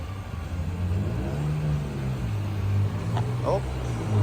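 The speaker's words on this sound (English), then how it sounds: "The engine is running right now. I think you guys can hear it." A 2014 Cadillac XTS VSport with a twin turbo engine runs at a low, fairly quiet idle, with a faint steady hum and a few brief sounds over it.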